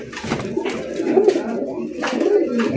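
A pigeon offered for sale coos nearby in low, rolling, repeated phrases. Background murmur runs beneath it.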